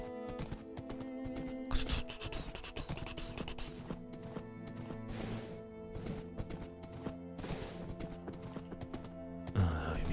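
Horse hooves sound in a steady clip-clop while riding in the video game Minecraft with the Life in the Woods modpack, moderately quiet under background music, with a louder thump near the end and talk in between.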